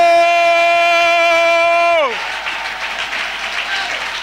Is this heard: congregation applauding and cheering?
yes